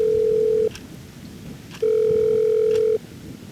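Ringback tone of an unanswered phone call: two long, loud electronic rings separated by a pause, clean and close with no one speaking.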